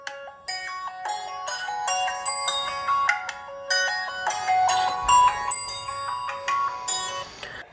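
A replica Galaxy S5 phone with an MTK6582 chip plays a ringtone through its back speaker: a busy, bright melody of quick electronic bell-like notes, fairly loud and close, running continuously with no speech.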